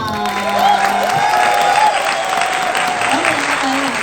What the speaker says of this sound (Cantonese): 希望用大家熱烈嘅掌聲開始我哋今日嘅婚禮